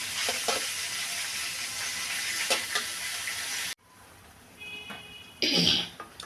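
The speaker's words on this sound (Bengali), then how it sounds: "তো আগে কপিগুলো আদা দিয়ে ভালোভাবে কষিয়ে নিচ্ছি" Cauliflower florets sautéing with ginger in a hot pan give a steady, fairly loud sizzle that drops out abruptly partway through, followed by quieter frying and a brief louder burst of hissing near the end.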